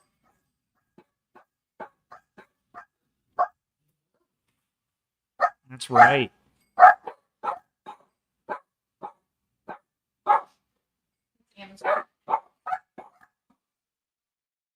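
Several house dogs bark at a delivery, sharp barks coming in irregular bursts with short pauses, fairly close, and a person briefly speaks among them.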